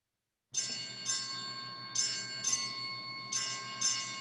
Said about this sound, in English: I hear bells. Yep. That's my clock.